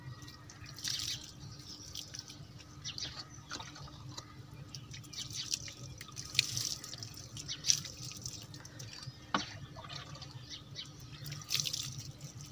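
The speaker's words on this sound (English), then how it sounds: "So I will add water in the texture" Water trickles and drips steadily into gritty texture paste in a quiet room, with soft intermittent splashes and small clicks, fairly close and low in level.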